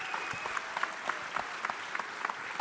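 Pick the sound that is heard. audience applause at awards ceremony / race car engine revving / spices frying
audience applause at awards ceremony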